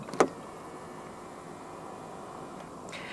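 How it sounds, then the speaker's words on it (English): A BYD M6 locks after a press of the front door handle button, giving one short mechanical clunk right at the start, then quiet near-silence with a faint click toward the end. "To lock the car, press the button on any of the front door handles."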